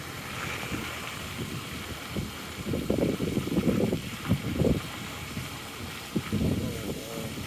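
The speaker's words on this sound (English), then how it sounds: "I'm getting 23 mile an hour gusts." Strong gusty wind during a tornado, rushing and buffeting the microphone in rising and falling bursts, loud and close, with faint voices in the background.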